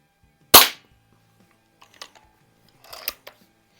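An old Eisenwerke Gem No. 13 air rifle fires a pellet in a garage with one sharp, loud crack, followed by softer clicks and clatter of handling the gun.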